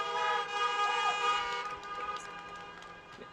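A car horn gives one sustained, tonal honk that gradually fades over a few seconds against faint background noise.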